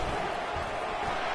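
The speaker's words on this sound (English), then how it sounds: "This crowd full throat, splitting the eardrums" A stadium crowd roars in the College Football 25 video game, a loud, sustained wash of cheering voices filling the whole clip with no break.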